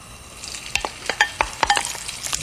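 Ingredients stir-frying in about a tablespoon of cooking oil in a pan, a bright sizzle broken by quick irregular scrapes and clacks of a utensil tossing the food, close by and with no talk.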